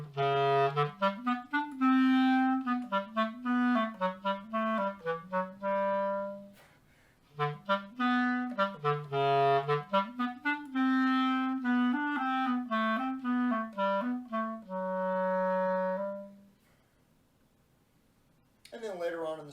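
Solo clarinet plays the slow, sly cat theme from Peter and the Wolf, a smooth close melody in phrases separated by short pauses, played alone with a breath gap before a last entry.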